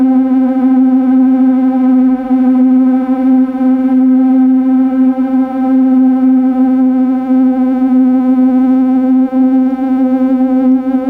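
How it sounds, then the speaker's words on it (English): A steady sustained drone from a no-input mixing setup with a bright, rich harmonic stack, its tone shifting gradually from dull to brighter as reverb pedal settings change, loud and continuous without pause. "And if I mess with the reverb settings,"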